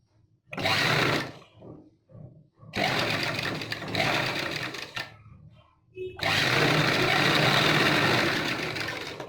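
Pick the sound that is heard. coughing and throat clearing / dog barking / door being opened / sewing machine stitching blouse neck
sewing machine stitching blouse neck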